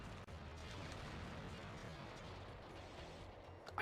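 A dense, rumbling explosion blast from the Spyro: Enter the Dragonfly video game, layered with crashing effects, sustained and loud throughout with a sharp burst at the end.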